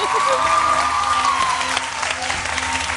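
Studio audience on a Hindi morning TV show claps to welcome a guest, a dense burst of applause with some cheering, while a host speaks over it.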